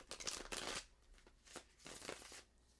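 Tarot cards shuffled by hand at close range, soft papery riffles and slides in a few quick bursts with quiet gaps between them.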